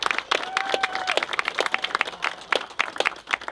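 An audience claps at a baseball team's ceremony dedicating a special needs swing, with distinct, fairly loose hand claps and a brief whistle-like tone in the first second.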